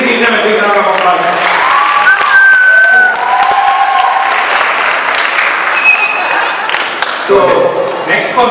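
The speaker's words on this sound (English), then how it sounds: "Please give them a big round of applause." Audience applause after a dance performance at an Ugadi celebration, loud sustained clapping from a crowd, with a voice speaking over it and a music or tonal sweep in the background.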